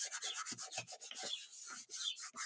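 A piece of scrap card rubs back and forth over a wet inked card, making rapid close scratchy strokes in an uneven rhythm with no pauses.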